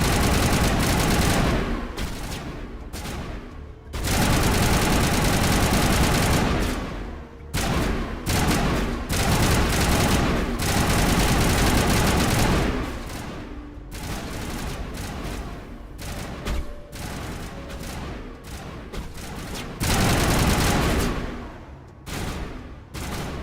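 Sustained bursts of automatic gunfire in Mass Effect Legendary Edition, loud rapid volleys in several long stretches separated by brief quiet gaps, with no talking.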